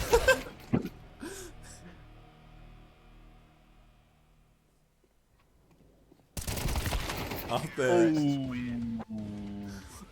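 Counter-Strike gunfire crackles in short bursts at the start and again in the second half, with a player talking excitedly over the later shots.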